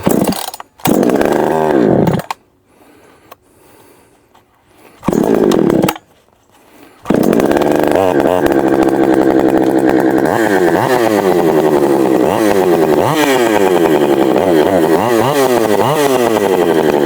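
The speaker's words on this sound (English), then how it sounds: "This one's cold, so I'm gonna have to warm it up." A ported Husqvarna 359/357XP-conversion chainsaw starts cold, cutting out twice before catching, then revs loudly and repeatedly, its engine pitch rising and falling in throttle blips as it warms up close by for firewood cutting.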